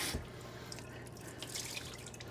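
Warm water runs from a kitchen tap while fruit is washed, a steady close splashing stream with small drips and sputters, alone without talk.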